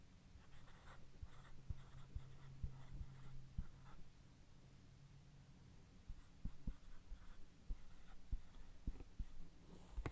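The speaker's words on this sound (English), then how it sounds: "So I'm going to write it, you write it." Soft scratching of pencil on paper comes in short, uneven strokes, faint and close in an otherwise quiet room.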